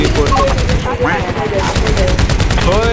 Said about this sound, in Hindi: आपको बिना मुश्किल बस चार गोली मारनी है